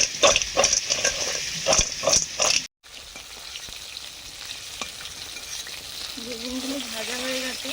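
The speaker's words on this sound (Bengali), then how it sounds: "বেগুনগুলো ভাজা হয়ে গেছে, হালকা ভেজেছি, তুলে নিচ্ছি।" Eggplant slices frying in hot oil, a steady bubbling sizzle with a few loud clattering knocks early on, then a brief cut and quieter frying with a faint tonal sound near the end.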